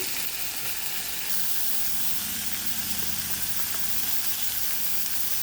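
A steady hiss of tamarind frying in a pan fills it continuously, broadband and even, with faint occasional stirring underneath.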